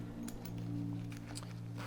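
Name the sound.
zipper pocket on Lochby field journal being opened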